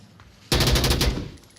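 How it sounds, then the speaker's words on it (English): A quick burst of rapid gunfire from a VR shooter video game rattles out for about half a second. It is loud and close against a quiet background. "Here's those gunshots."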